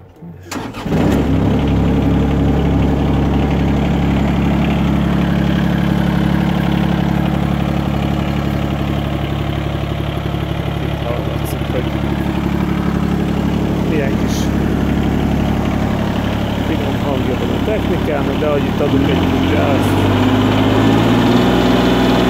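The small diesel engine of an Everun ERE12 mini excavator cranks and catches, then settles into a loud, steady idle that runs on and on, close by.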